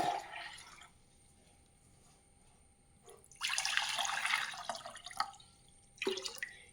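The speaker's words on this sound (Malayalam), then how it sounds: "രണ്ടിലും കുറച്ച് വെള്ളം ഒഴിക്കണം" Water poured into new clay pots splashes and trickles in short bursts, with a longer pour in the middle and a brief splash near the end; close and fairly quiet.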